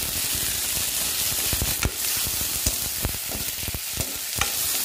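Chopped tomato pieces frying in a pan with curry leaves and garlic for sambar, a steady close sizzle broken by sharp spoon clinks and scraping stirs, with no talk.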